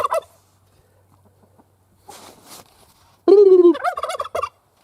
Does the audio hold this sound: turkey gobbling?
yes